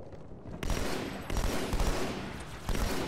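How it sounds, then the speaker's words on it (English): Sniper rifle shots ring out in Halo 2 on the Outskirts level, several sharp broadband cracks spaced about a second apart amid ongoing gunfire, moderately loud, with no talking. "Hearing sniper shots,"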